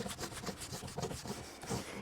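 A cloth buffs wax onto a painted wooden cheese box, giving soft, quiet, rhythmic rubbing strokes, each a brief swish, close by with no voices.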